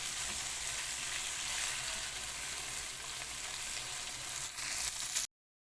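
Liver fries with chopped green peppers, some spicy and some mild, in a pan. A steady, close, loud sizzle hisses without pause, then cuts off abruptly.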